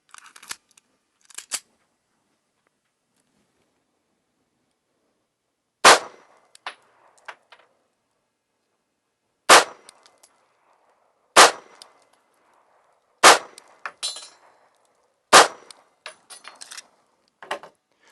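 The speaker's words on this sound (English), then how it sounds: "you fired your first few rounds over the chronograph" Gunshots fired over a chronograph crack out as sharp, isolated reports, about half a dozen spaced a few seconds apart with brief rattling tails and silence between.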